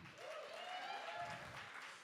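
An audience at a poetry slam claps for a poet, a short burst of dense, even applause heard at moderate distance, fading slightly at the end.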